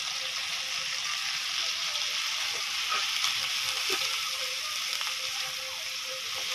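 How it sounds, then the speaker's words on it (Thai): Water mimosa with shrimp and garlic stir-fries in a hot pan, a steady close sizzle with occasional scrapes and clinks of the utensil and no talk. "อย่าผัดนานนะคะผักกระเฉดเขาจะเหนียว"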